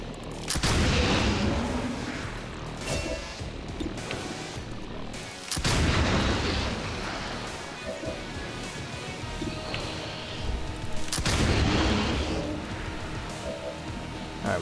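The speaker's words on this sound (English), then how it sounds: "Let's kill these two guys with our pistol" Pistol shots in XCOM 2 hit loud and sharp, three heavy booming reports spaced several seconds apart, each followed by a rumbling tail.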